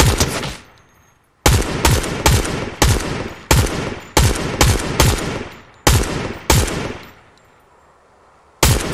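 Gunfire in Fortnite: a string of about a dozen loud, sharp shots with short decays, fired singly and in quick pairs, separated by two near-silent pauses, with no voices.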